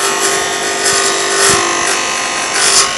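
A woodturning gouge cutting a wooden sphere on a spinning lathe: a loud, continuous whirring hum with a steady tone and slight swells as the tool tip rolls across the wood, no voices.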